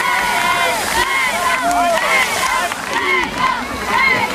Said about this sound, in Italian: sentite il tifo che fa i suoi concorrenti